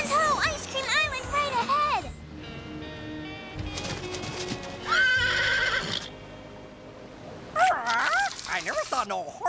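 Cartoon horse whinnying repeatedly with bright, rising and falling neighs, mixed with clip-clopping hooves, music and other animated sound effects, loud and close throughout.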